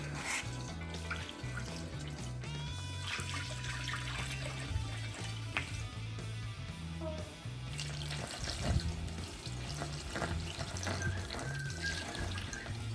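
Cold-steeped coffee pours into a carboy of breakfast stout in a steady, gentle liquid trickle and splash, heard faintly under background music.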